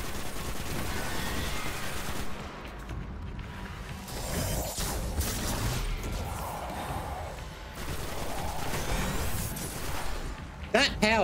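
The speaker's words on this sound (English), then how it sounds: "watch all that explosion" Gunfire and blasts from the video game Destiny rattle continuously through the stretch, with dense crashing bursts and a sharper cluster near the end, while a player talks over the action.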